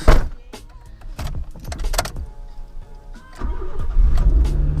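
A manually swapped Honda Civic engine starts after a few clunks, then runs at a raised, steady idle above 2000 RPM, close and fairly loud, with no talking.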